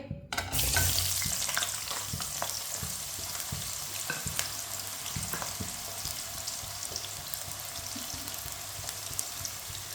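Large pieces of potato fry in oil with a steady, busy sizzle and occasional stirring clatter, close and continuous after a brief sharp start.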